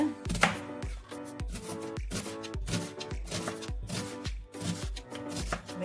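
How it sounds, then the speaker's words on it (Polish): Onion being finely chopped with a knife on a board, rapid close rhythmic blade strikes repeating evenly throughout with no talking. "Kroimy cebulkę na takie drobne"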